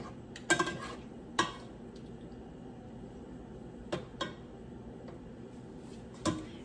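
A few scattered clinks of a spoon against a pan, with quiet scraping between them and a faint background hiss.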